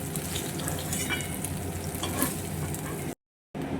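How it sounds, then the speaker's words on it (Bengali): Katla fish pieces fry in hot mustard oil for a Bengali katla curry, giving a steady, dense sizzle close up with a brief silent gap near the end. "সর্ষের তেলটা গরম হয়ে গেছে, মাছগুলো ভেজে নেব।"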